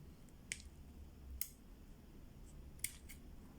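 Scissors trim the roots of a tigerbark ficus bonsai with three or four quiet, sharp snips spread across a few seconds over a soft background hiss, with no talking.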